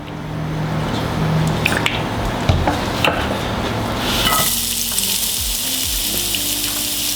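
Leeks frying in a little oil in a pan, a steady wet sizzle with scattered clicks and stirring knocks, the frying hiss growing brighter and denser toward the end.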